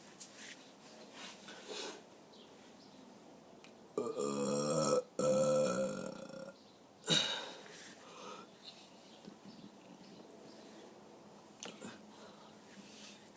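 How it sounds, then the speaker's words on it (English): A person lets out long, drawn-out burps, one sustained croaking belch followed closely by a second and a shorter one, close and fairly quiet in a still room. "Okay, that's enough for long burps, not for loud burps."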